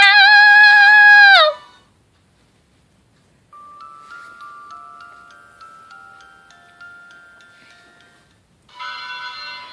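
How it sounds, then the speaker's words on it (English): A loud chiming tone opens, then bright, sustained wedding-bell tones ring out over several seconds in the dating game Shall We Date? The Niflheim+, fading before another burst of chimes. "The sound of wedding bells echoed in my ears."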